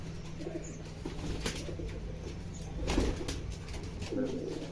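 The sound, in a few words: Rajshahi Giribaz pigeons cooing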